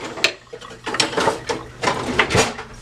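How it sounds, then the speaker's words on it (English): A spoon stirs oregano leaves into sauce in a pan in a dorm room kitchen, giving close, steady scraping and clinking strokes against the metal at a brisk, fairly even rhythm. "you're just gonna stir it around, stir it up"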